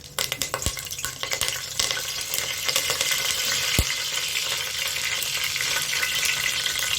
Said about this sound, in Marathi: आता आपण फोडणीमध्ये घालणार आहोत तमालपत्र म्हणजे तेजपत्ता आणि कढीपत्ता.